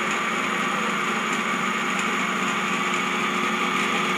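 Steady high-pitched electric motor whine running at about 822 RPM in a single-phase and three-phase AC-DC converter lab setup, a continuous even drone with no pauses or talk.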